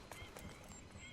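A horse in Red Dead Redemption 2 gives a few quick hoof clops and a short whinny, fairly close, with a faint hint of voice in the background.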